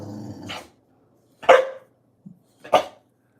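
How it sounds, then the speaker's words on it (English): A husky-mix dog gives three separate close, drawn-out vocal yowls, spaced by short pauses, with one soft grunt in between and no talking. "She has husky in her, so she talks."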